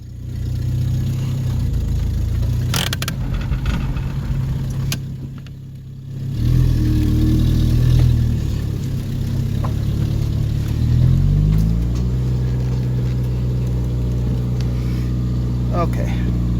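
A woodgas-powered Chevrolet Cavalier engine runs steadily close by, drops briefly, then revs up louder before settling into a lower hum, with people talking over it.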